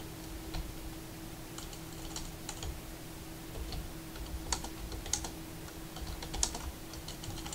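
Steady typing on a computer keyboard while entering a file name to save a reduced-size PDF in Adobe Acrobat, with irregular close key clicks over a constant low hum and no voices.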